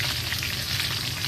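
Onions frying in a pan, a dense constant hiss of sizzling oil heard close up and without pause, no voices.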